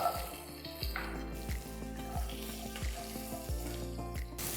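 Shallots, curry leaves and mustard seeds with asafoetida frying in hot oil, a continuous soft sizzle broken by a handful of low thumps and stirring knocks at regular intervals, close by with no voices.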